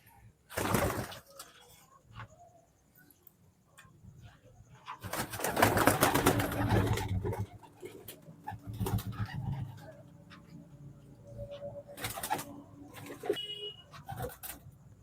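Pigeons from a Delhi pigeon loft coo in soft, low, intermittent phrases, mixed with scattered rustling and a few louder bursts of nearby activity.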